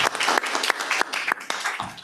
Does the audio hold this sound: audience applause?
yes